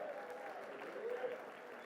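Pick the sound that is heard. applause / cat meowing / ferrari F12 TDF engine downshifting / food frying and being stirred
applause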